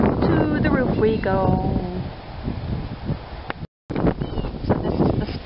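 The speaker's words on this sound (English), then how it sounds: "It's pretty windy." Strong wind buffeting a microphone on an RV roof, a steady loud roar with gusty rumble, briefly cut out partway through.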